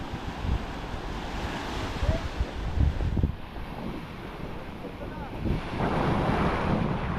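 Strong wind roars steadily at the seashore, with surf washing beneath it in a continuous dense rush that swells louder toward the end.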